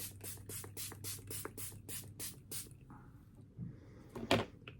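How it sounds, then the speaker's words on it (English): A mister bottle sprays toner as a face mist in a quick series of about nine short, soft hissing puffs, steady and close, followed by a few quieter handling rustles and a brief louder knock near the end. "It's toner, but I'm going to put it on like a face spray."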